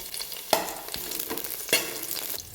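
Fresh mint leaves go into a hot pan of frying onion, green chillies, cinnamon and star anise, crackling and sizzling loudly up close while being stirred, with two sharp bursts of spattering.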